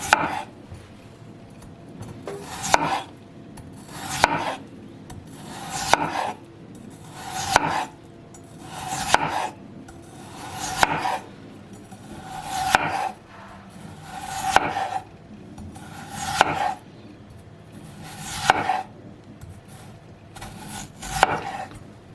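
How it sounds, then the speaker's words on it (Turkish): Knife slicing potatoes thinly on a board, a steady run of about a dozen crisp, evenly spaced chops close by, with no talking. "patatesleri bizi böyle ince ince doğruyorum"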